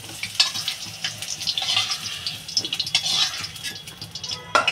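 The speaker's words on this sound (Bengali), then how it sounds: "আলুটা একটু লাল লাল করে ভেজে নেব বন্ধুরা" Potato pieces fry in oil in a pan while a curry with fish balls and green tomatoes is prepared, giving a steady bright sizzle with crackling spits and a few scraping stirs, no talking.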